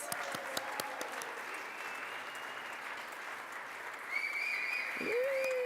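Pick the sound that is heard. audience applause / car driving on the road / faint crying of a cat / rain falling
audience applause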